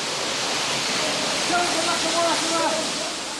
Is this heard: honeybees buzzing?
no